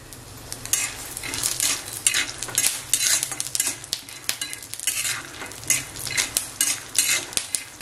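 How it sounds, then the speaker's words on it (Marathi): Garlic sizzles and crackles while roasting with peanuts in a hot pan for dry peanut chutney, loud and close, with repeated scraping stirs and utensil clatter in an uneven rhythm. "लसूण टाकल्याने बघा आवाज कसा येतोय"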